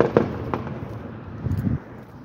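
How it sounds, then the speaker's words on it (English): Firecrackers go off outside, a few sharp distant pops spaced apart with a muffled burst near the end, fairly faint over a low background rumble. "Pretty sure that was just some loud-ass firecrackers."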